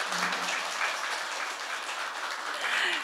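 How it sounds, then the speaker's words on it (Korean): An audience at an education town hall meeting in Andong, Korea, claps warmly for the provincial superintendent, a steady dense wash of applause lasting a few seconds. "우리 교육감님께 다시 한번 따뜻한 박수 요청드립니다"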